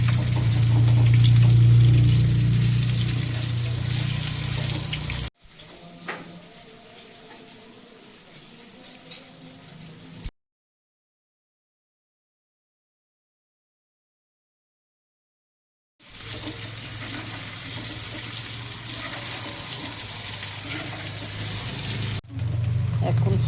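Chili chicken pieces frying in hot oil sizzle steadily and are flipped over, the frying noise dropping to a quiet patch and a silent gap before resuming loud.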